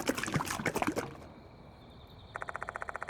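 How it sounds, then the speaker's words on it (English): Liquid poured from a bottle of bleach onto a pedestal in the Death Mark 2 video game: a short gurgling pour up front, a quiet pause, then a rapid rhythmic series of bright dripping or chiming pulses. "I open the bleach bottle and pour the liquid onto the pedestal"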